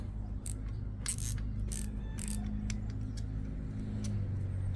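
Engine intake parts on a boosted 6.2 in a 1955 Chevrolet 3100 are screwed down by hand, with bursts of quick ratcheting clicks over a constant low mechanical drone.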